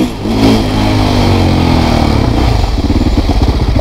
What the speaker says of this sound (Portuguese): Olha uma moto aqui, ó.